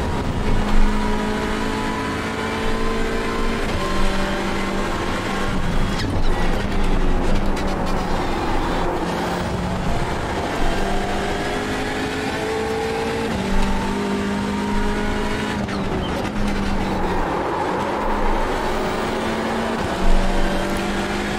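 Hyundai Elantra TCR race car in iRacing at Donington Grand Prix, engine droning loud and steady throughout with repeated gear changes and revving as the car slides around, no talk.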